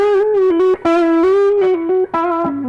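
A clean, sustained electric guitar melody rings out alone, with held notes and short pauses between phrases, close and loud throughout.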